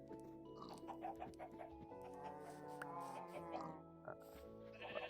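Several sheep in the Minecraft video game bleat repeatedly, warbling calls overlapping near and clear, with other farm animal noises and a faint voice mixed in.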